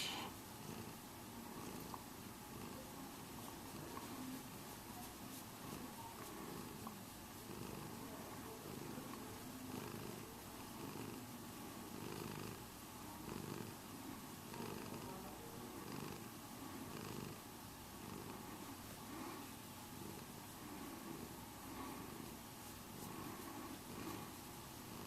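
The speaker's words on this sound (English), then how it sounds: "Serving up the purrs." Mauri the cat purrs close up in a steady, continuous low rumble with a rhythmic pulse of inhale and exhale, sustained throughout without talk.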